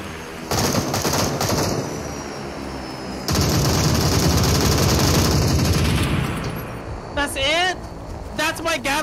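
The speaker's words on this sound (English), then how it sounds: "That's my Gatling gun." A Gatling gun firing flaming rounds in the shooter game Super People, heard as two long, loud bursts of rapid continuous fire, followed by shorter chirping sound effects near the end.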